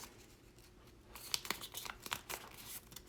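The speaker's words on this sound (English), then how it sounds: "Okay, so I'm going to fold it in half. Fold it in half again." A sheet of paper being folded in half and creased again, soft crinkling and crackling with a few sharper snaps, faint and close.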